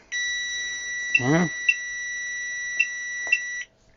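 An Owon CMS101 clamp meter sounds its continuity test as a sustained high electronic beep for several seconds, with short clicks of the probes and a brief voice speaking over it.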